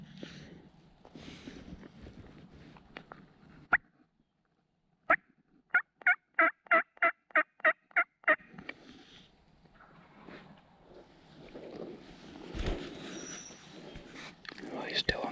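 A wild turkey gobbles in a rapid run of about ten sharp, rattling notes from a distance in Tennessee, with quiet rustling and soft whispering before and after.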